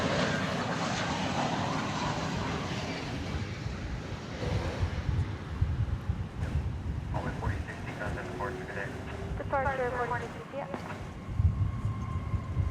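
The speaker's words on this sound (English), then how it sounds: "flight 1215, American Airlines from Puerto Vallarta. About to make its way to runway 18" An American Airlines airliner, flight 1215 in from Puerto Vallarta, taxis at DFW Airport toward runway 18 right, its engines a steady distant whine over wind noise, with voices talking partway through.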